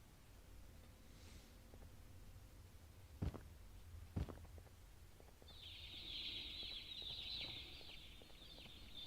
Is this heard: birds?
yes